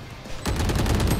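Gunfire in the video game Valorant, a rapid automatic burst that breaks in abruptly after a brief quiet moment and rattles on loud and continuous to the end.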